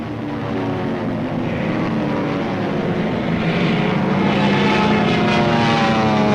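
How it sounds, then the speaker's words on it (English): Carrier-based WWII propeller aircraft circle over the target at Iwo Jima, a steady droning engine roar that holds loud and unbroken throughout, with no voices. "The support air director contacts carrier planes circling the target."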